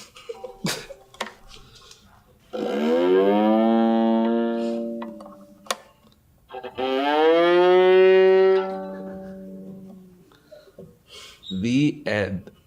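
A cow lowing in two long, loud drawn-out moos, each several seconds, with brief knocks and faint noises between and a shorter call at the end.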